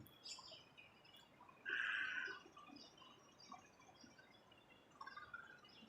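A small bird chirps a few times in the distance beside a river in Hsinchu, Taiwan, faint calls over quiet outdoor ambience with a soft background wash.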